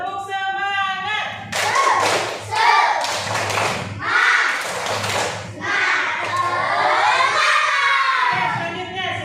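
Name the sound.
class of children doing a spirit clap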